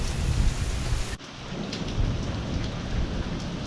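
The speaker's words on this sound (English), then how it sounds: "I didn't think it rained anywhere near that hard." Heavy rain pours steadily during a severe wind storm, a dense loud hiss of water that drops briefly in level before resuming, with no voices.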